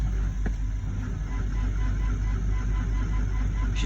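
A truck's engine cold-starting, running as a steady low rumble throughout with a short sharp click near the start.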